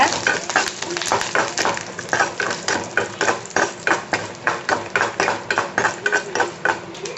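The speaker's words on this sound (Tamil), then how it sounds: "கடுகு நல்லா பொரிஞ்சிருச்சு" Mustard seeds spluttering in hot oil for pepper-cumin rasam, a steady frying hiss broken by a regular run of sharp crackling pops that grows more rhythmic, close up, with no talk.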